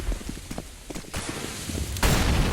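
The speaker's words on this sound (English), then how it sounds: "The two smokes, the Molotovs and the flashbangs coming in." Molotovs, flashbangs and gunfire in Counter-Strike on the Inferno map: rapid bursts of shots and cracks in quick succession, ending in a loud sustained blast of noise, with no talking.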